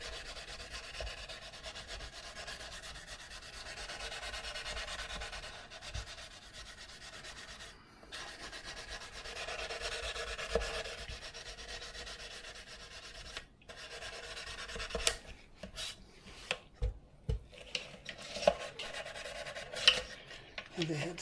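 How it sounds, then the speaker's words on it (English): Sandpaper wrapped around a small dowel rubs steadily inside the slots of a tenor ukulele headstock, a continuous close scraping that turns into shorter uneven strokes with light taps near the end. "I use this little dowel on my sandpaper to be able to sand inside"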